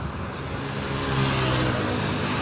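Private four-wheeled cars roll past on a road during one-way holiday return traffic, a steady broadband wash of tyre and engine noise that swells slightly midway, moderately close, with no talking.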